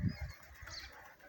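Pigeons, fancy lakka and flying birds among them along with young ones, give a brief low coo close by over faint outdoor noise while feeding on drying paddy.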